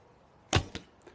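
A single sharp twang and thwack of a Nomad Warriors takedown horsebow releasing an arrow, followed by a quick second snap, brief and close against quiet background.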